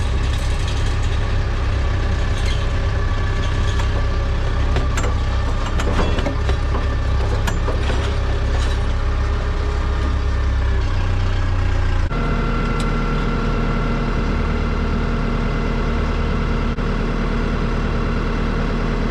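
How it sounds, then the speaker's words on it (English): Loud, steady truck engine drone with a busy mechanical clatter from a hay rake towed and running behind it; the rumble shifts pitch partway through. No talking. "We're gonna turn in here and turn our rake on."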